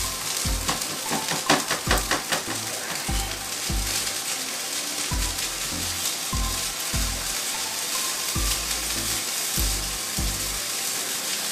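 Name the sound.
stir-frying rice with bean sprouts, bacon and sausage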